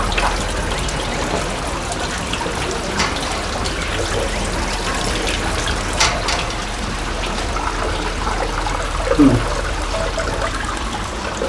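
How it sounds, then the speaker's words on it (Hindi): Water trickles steadily from a pipe and runs through a stone drain at a Mahadev temple in Junnardev, a soft continuous wash that fills the whole span at an even level. "ये पिंडी से पानी फिर नाली से होकर ये यहाँ पे आया"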